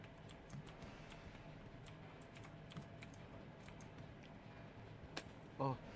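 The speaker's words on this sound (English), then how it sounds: "All I hear is the clicking clackety of his fucking keyboard." Steady clicking and clacking of a computer keyboard typed on quickly and continuously during a tense video game, close and fairly quiet beneath faint background noise, with a brief louder burst near the end.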